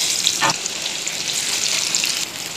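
Chopped onion and whole garam masala sizzling in hot oil for a chicken curry, a steady loud frying hiss throughout with a brief stirring scrape near the start, no voices.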